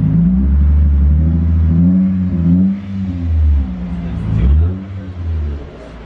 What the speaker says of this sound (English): Don't rev it